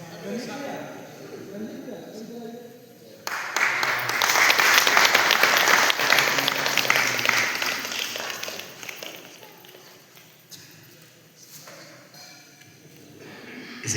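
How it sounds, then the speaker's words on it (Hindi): A crowd at a Shiv Mahapuran religious gathering in Pangi gives loud, sustained applause. It swells suddenly after a few seconds of quieter sound, holds strong, then fades back down with scattered claps and voices. "जोरदार तालियों से स्वागत करेंगे।"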